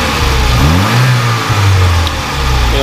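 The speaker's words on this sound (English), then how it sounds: "Go ahead and rev it up a little bit." A 1989 Saab 900 Turbo SPG with a five-speed gearbox is revved from idle in two close, loud throttle blips, its engine pitch climbing and falling back each time, with no voices present.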